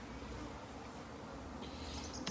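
Steady, continuous buzzing of bees around honey hives, a faint even hum with no clear breaks and a brief sharper sound right at the end.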